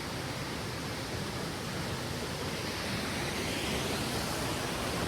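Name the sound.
fast-flowing mountain stream water on temple trek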